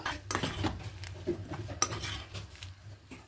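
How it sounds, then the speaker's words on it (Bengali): Mung dal with radish is stirred in a pot, with a spoon scraping and clinking against the metal in irregular strokes, quiet and close, with no talking. "এবার সব খুব ভালো করে মিশিয়ে নেব।"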